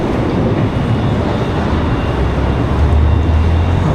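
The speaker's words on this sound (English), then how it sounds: "So we have United departing there. Looks like a 737 900." United Boeing 737-900 jet departing Washington Dulles, a loud steady broadband engine roar filling the whole stretch with no talk.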